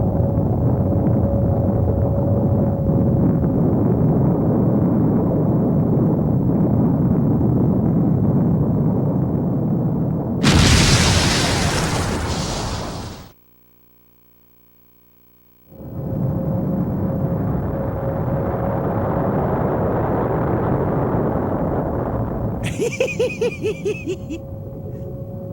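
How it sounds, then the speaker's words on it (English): A Mega Man Legends video game explosion sounds as a long, loud roaring rumble, then a sharp bright burst, a sudden drop to silence, another roaring stretch and a final crackling blast near the end. "Mega Man, if we're not careful, we'll be caught in the explosion"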